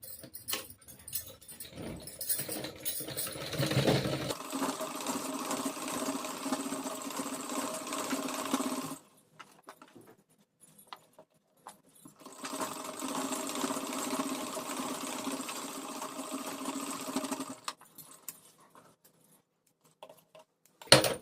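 A sewing machine stitches the hem of a dress made from a saree, running in two long steady bursts of rapid whirring with a quiet pause between and a few clicks at the start.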